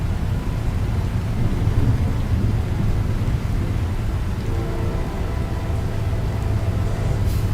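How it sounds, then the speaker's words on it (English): Heavy rain pours down during a thunderstorm in the American Truck Simulator driving game, a dense, continuous roar with low rumbling throughout and no voices. "We're hitting a thunderstorm, and it is pouring."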